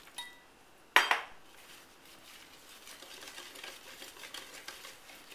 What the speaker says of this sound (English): So I'm not over stirring it.